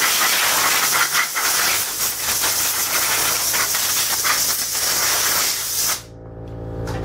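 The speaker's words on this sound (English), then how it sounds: "Compressed air to blow it out" Compressed air blows out an engine part during a piston ring rebuild as a loud, steady, broadband hiss with slight pulsing, which cuts off abruptly near the end into quiet.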